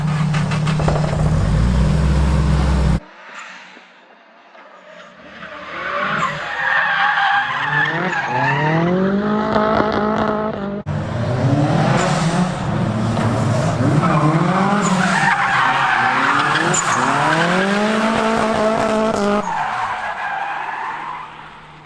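A drift car skids with long tire squeals and a revving engine, loud and near, in several sliding bursts after a brief idle, with no talking.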